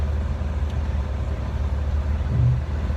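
A 1971 Datsun 240Z with an L24 engine bored to L27, triple 44 Mikuni carburetors and a 2.5-inch exhaust into a MagnaFlow muffler rumbles steadily with a deep, low idle-like tone, close by and unbroken.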